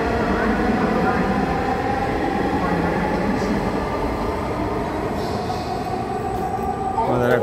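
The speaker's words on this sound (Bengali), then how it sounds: "ট্রেন আস্তে আস্তে যাচ্ছে" A train rolls slowly through a station at midday, giving a steady, loud rumble of wheels and carriages with faint squeals and one clatter near the end.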